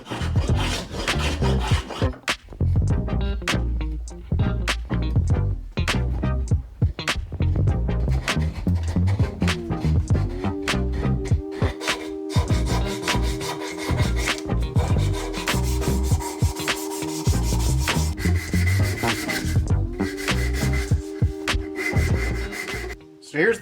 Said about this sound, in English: I just finished it up by hand sanding